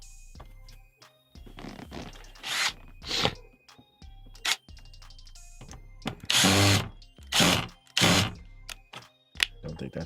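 A power drill backs screws out of a Yamaha DX100 keyboard in several short, loud whirring bursts close by, separated by pauses and light clunks of handling, with someone talking between them.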